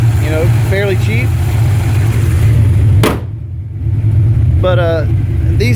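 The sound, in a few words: Fox body car engine with B cam idling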